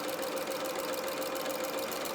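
A sewing machine chain piecing small fabric pieces for a Luna Lapin winter skating coat runs in one steady, even whirr with a fine rapid rhythm. It is close and fairly quiet, with no voices.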